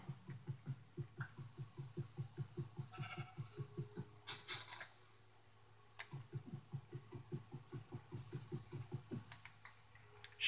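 A rapid, repeated sheep bleating in Minecraft, pulsing rhythmically in quick bursts with brief pauses, faint and steady throughout, with occasional clicks in between.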